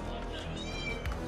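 A cat meows close by during a video game session, a short plaintive call heard over steady game sound and background noise.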